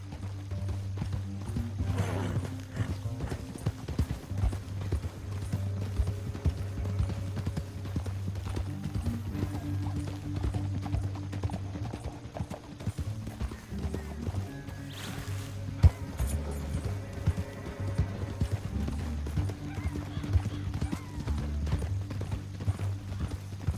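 Steady clip-clop of horse hooves running under a low rumbling music bed, continuous throughout with a brief brighter burst midway.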